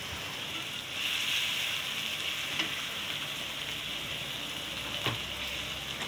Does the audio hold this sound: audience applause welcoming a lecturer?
no